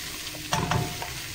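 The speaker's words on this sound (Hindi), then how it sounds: "मिक्सिंग चल रही है।" Okra (bhindi) stirred in a pan over high heat, a short burst of scraping and sizzle rising mid-clip over a low steady fry, close and moderately loud, with no voices.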